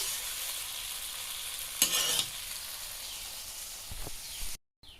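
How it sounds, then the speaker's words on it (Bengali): Okra and small shrimp curry being transferred from the pan into a bowl, a soft continuous sizzle with a brief scraping clatter partway through and a light knock near the end, quiet and close. "এবার আমি একটা পাত্রে ঢেলে নিচ্ছি"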